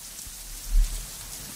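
Rain falling steadily at a Balaton lakeside holiday spot, a continuous soft hiss of drops with a brief low thud near the middle, heard alone without talk.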